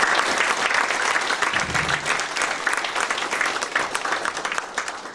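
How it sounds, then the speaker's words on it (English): Sustained round of applause from a forum audience at a Toastmasters event, dense steady clapping throughout at a fairly even loudness, filling the room without a break. "Shall we give Toastmasters movement a big round of applause?"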